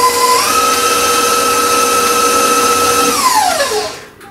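An electric mixer whirs steadily through cookie dough for Hershey Hot Cocoa Kiss cookies, a loud close motor whine that holds its pitch, then drops in speed and winds down as it is switched off near the end.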